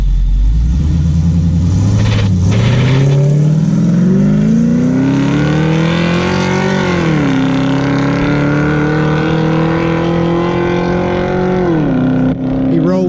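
A Chevy Nova drag car launches and accelerates hard down the drag strip, its engine roaring loud and close with a rising pitch through several gear changes, and voices are heard over the engine.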